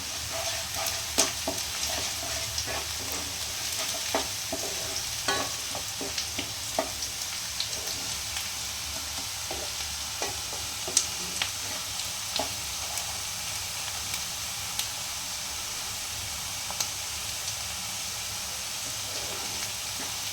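Onions frying in oil with about half a spoon of chili powder for soyabean chilli, giving a steady close hiss and sizzle broken by occasional light utensil taps and stirring scrapes, no voices.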